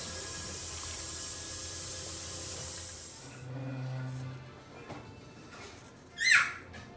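Water runs from a tap in a steady hiss for a few seconds and is then poured into a pot of homemade spaghetti sauce. A short bubbling splash follows, with faint kitchen clatter.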